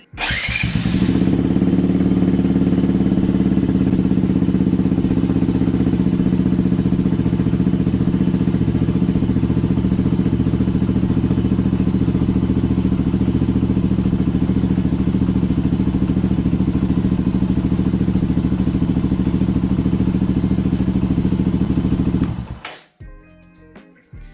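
Motorcycle engine idling with a super quiet exhaust baffle fitted, a steady, loud low-pitched rumble running unbroken for over twenty seconds before cutting off abruptly.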